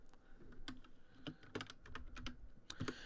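Close, quiet typing on a computer keyboard, with quick irregular bursts of light key clicks coming one after another and no one speaking.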